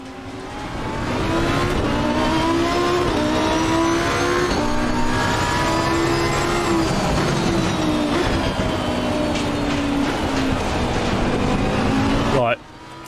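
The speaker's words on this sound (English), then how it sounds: "Oh, what a beautiful engine note from that" A Lamborghini Huracan EVO2 in the racing game Assetto Corsa Competizione howls loudly and continuously as its engine revs rise and fall through gear changes, a steady high-pitched wail that cuts off abruptly near the end.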